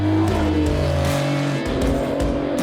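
A car engine roars loudly and steadily close by, its revving drone shifting in pitch as it pulls away.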